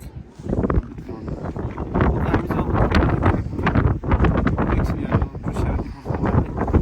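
Strong gusty wind buffets the microphone in loud rushing surges, rising and falling, with a voice speaking underneath.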